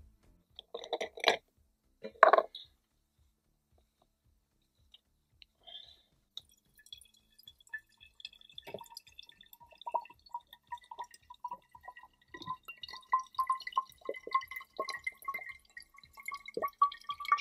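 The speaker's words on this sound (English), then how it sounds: "So this is the gravity fed water." Water dripping through a gravity-fed water filter, faint scattered drips and small splashes after a couple of louder knocks, quiet and close with gaps of near silence.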